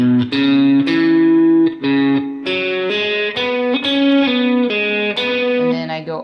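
An electric guitar with distortion plays a short phrase in E of distinct picked notes, starting and ending on B, up close and alone.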